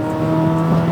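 A 2023 Corvette Z06 engine, a loud, close, steady roar with a strong tonal drone during a short burst.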